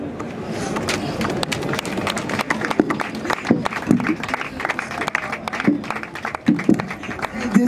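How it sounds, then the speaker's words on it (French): Applause at a funeral ceremony for an actor and artist, a crowd clapping in an uneven, scattered rhythm for several seconds, with voices murmuring underneath. "qui mérite bien quelques secondes d'applaudissements"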